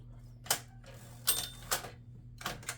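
Keys of a 1960s Smith Corona Galaxie Twelve manual typewriter strike in about six sharp, separate clacks at irregular intervals, close up and crisp against a quiet background, with no talk.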